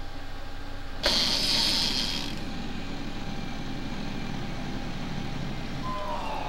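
An electronic wheel spin from a Wheel of Fortune plug-and-play TV game starts suddenly with a bright, buzzing whir that fades after about a second, then gives way to a steady background hum.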